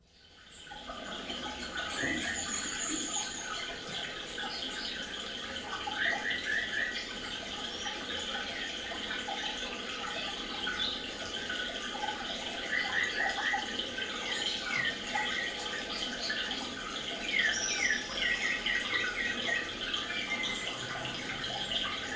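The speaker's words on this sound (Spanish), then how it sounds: "Este es el arroyo Bruno" The Bruno stream in Colombia flows steadily in an outdoor field recording, a continuous broad rush of water with bird chirps scattered faintly on top throughout.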